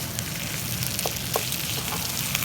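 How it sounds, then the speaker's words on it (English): Two pounds of ground turkey frying with chopped onions in oil, a dense, loud, unbroken sizzle close up with faint crackles and occasional stirring. "now ground turkey, 2 pounds"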